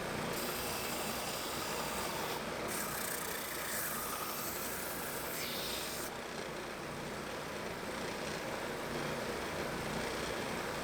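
Power sander working over a walnut and ash snail tape dispenser, a continuous loud broadband whir with a brief change in tone partway through.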